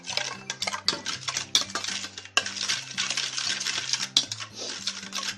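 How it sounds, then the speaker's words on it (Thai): A spoon scrapes and clinks steadily through spicy squid salad as chili sauce is mixed into it in a bowl, with close, continuous clatter over soft background music. "คลุกเคล้าเข้ากันครับ"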